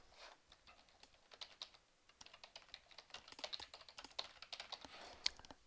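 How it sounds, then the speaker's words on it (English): Typing on a computer keyboard during accounting software work, a quiet run of light, irregular key clicks that picks up toward the end, with one sharper keystroke near the close. "When I press the enter key on my keyboard"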